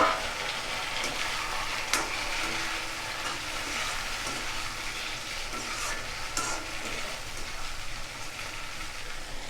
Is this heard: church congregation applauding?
no